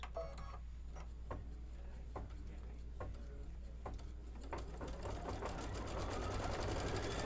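A freshly threaded sewing machine runs quietly and steadily, with soft rhythmic clicks throughout and a low hum beneath, growing slightly louder toward the end.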